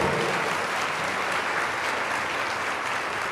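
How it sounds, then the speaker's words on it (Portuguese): A congregation applauds during a Thursday evening Mass, a steady, dense wash of clapping from many hands that holds even and full for the whole stretch, with no voices over it. "Vamos aplaudir o Senhor?"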